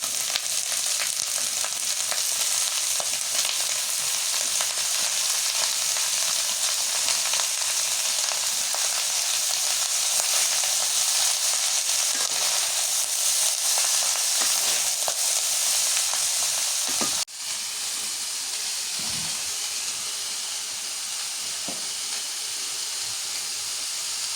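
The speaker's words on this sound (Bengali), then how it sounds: "শুটকিটা ভালো করে ভাজে নিলাম মরিচ পেঁয়াজের সাথে" Dried fish fries with chili and onion in a pan over a village cooking fire, giving a loud, steady sizzle throughout, with a brief clatter of stirring and slightly lower sizzling afterward.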